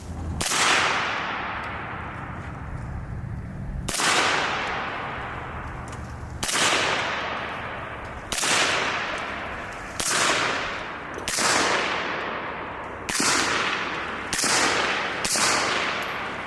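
A suppressed 11.5-inch VKTR VK-1 piston AR-15 rifle fires eight sharp, loud single shots at uneven intervals of roughly one to three seconds. Each shot has a crisp crack and a short decaying tail.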